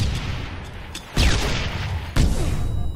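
Sharp gunshot bursts in the video game Halo ring out twice over a steady, noisy rumbling background, loud and close.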